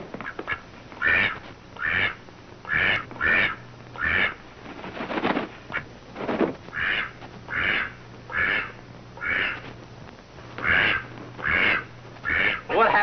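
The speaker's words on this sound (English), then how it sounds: "What happens to the duck?" A duck quacks again and again in a film scene from 1948, giving about a dozen loud, evenly spaced quack bursts that carry on steadily over a faint hum.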